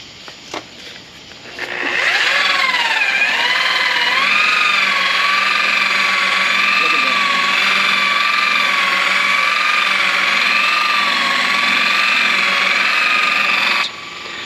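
A power sander or polisher works a cloudy car headlight lens during restoration, a loud steady whine with gently wavering pitch that runs continuously for about twelve seconds after a short start, then cuts off.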